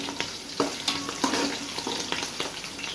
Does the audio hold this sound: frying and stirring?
yes